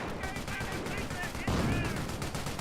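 Rapid machine-gun bursts rattle in Company of Heroes 1, a World War II strategy game, with steady repeated shots that grow a little louder partway through, mixed with other battle sounds.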